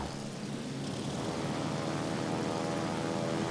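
Propeller planes launched from a carrier in the naval combat game World of Warships Legends drone past in a steady, sustained roar with a buzzing engine tone. The sound stays loud and close throughout and no one talks.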